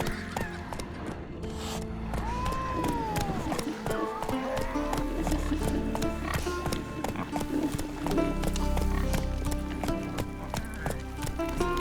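Horse hooves clip-clop at a steady run in The Witcher 3 video game, a loud, close rhythm of rapid beats with creaks, snorts and a brief whinny, and a voice speaks briefly over it.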